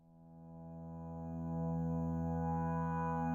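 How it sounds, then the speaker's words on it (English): A sustained synth tone made in Massive with layered harmonics swells slowly, its texture lightly stepped and robotic, chopped by a glitchy sample-and-hold effect. "I added this sample and hold plugin, which gives a sound a kind of, a little bit robotic"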